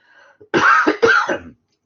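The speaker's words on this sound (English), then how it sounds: "Wouldn't be a video without me coughing." Two harsh coughs in quick succession, close and fairly loud, preceded by a soft breath, with no talking.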